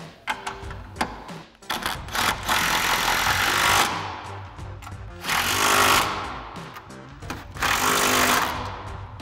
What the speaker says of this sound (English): grab our 14 mil socket on our impact and tighten down our upper mounting nuts here